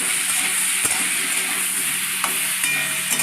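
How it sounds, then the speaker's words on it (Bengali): Raw mango pieces with turmeric sizzling and being stirred in a hot pan, a steady close frying hiss broken by a few sharp scraping clicks of the spatula. "আর অল্প একটু হলুদ দিয়ে দেবো আমি এর মধ্যে অল্প একটু হলুদ দিয়ে দিলাম দিয়ে আবার এড়ে ছেড়ে নেবো আমগুলোকে"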